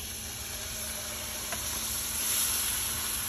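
Milk poured into hot cooked flour in a pan, giving a steady close sizzle and hiss that swells slightly toward the end.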